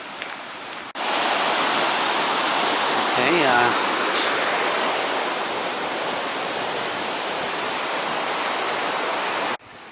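Broadband rush of river water flowing beside a footpath near Beddgelert, loud and steady for most of the stretch, with a brief spoken word near the start.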